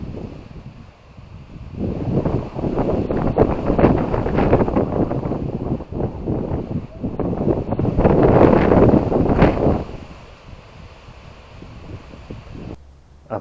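Wind gusts through ice-covered trees during an ice storm, making a loud, broad rushing roar that swells and fades, with rustling and some microphone buffeting.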